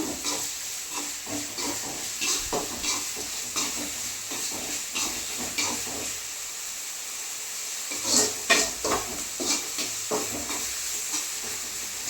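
Meat sizzles steadily in a hot pan, with irregular scraping and clattering from stirring, a couple of louder clanks near the end.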